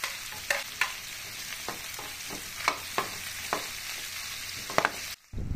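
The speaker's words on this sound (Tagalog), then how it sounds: "Sunod ay igisa ang luya. Igisa rin ang bawang." Ginger and garlic sizzle softly in a pan for laing with pork. A spatula scrapes and taps against the pan in sharp, irregular strokes close by, with no talking.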